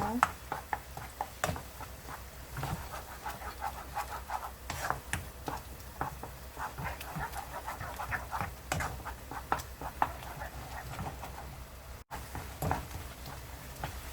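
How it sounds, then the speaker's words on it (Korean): Egg mixture and tofu stirred scramble-style in a pan, giving a steady run of soft scraping and light tapping clicks at close range, fairly faint, with no clear speech. "스크램블 하듯이 이렇게 저어줍니다."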